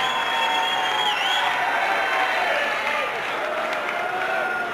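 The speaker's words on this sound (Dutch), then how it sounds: "Gefeliciteerd Jochem. Applaus voor Jochem." A crowd at a 1987 strongman contest in Friesland applauds the fourth-place finisher, a continuous wash of distant clapping and crowd noise with tonal hiss from an old recording.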